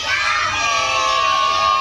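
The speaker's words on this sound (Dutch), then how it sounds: "kunnen jullie dan misschien heel hard Yokidoki roepen?" A crowd of children at an Efteling theme park show loudly yelling a word together in unison, a sustained, high, excited group shout.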